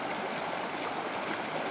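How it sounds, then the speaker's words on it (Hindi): Strong, fast-flowing floodwater rushing where a car is stuck, a steady dense broadband roar filling the whole stretch, close and continuous with no voices. "पानी का बहाव बहुत तेज था।"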